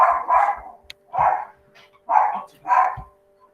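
A pet dog barks indoors in a home during an online school parent night meeting, four separate barks spaced apart, moderately close and clear.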